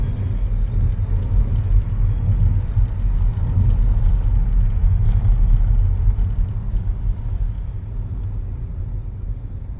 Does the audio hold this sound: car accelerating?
yes